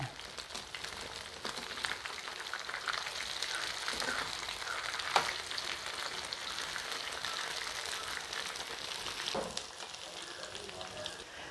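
Soybeans fry with curry leaves in a hot pan, giving a steady, close sizzle with occasional crackles and stirring scrapes throughout, and no voices.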